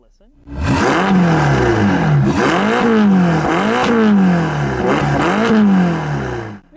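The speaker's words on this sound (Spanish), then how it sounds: "este coche también tiene el sonido de escape que esperarías de un Ferrari de verdad" A $250,000 Ferrari sports car's exhaust revs repeatedly, roaring up and dropping back in several loud, rhythmic bursts over a deep engine rumble.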